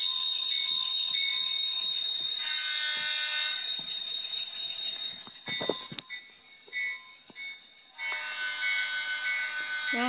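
Short train horn on a Norfolk Southern locomotive, a sustained bright tonal blare that holds steady, breaks off with a few clicks near the middle, then sounds again near the end.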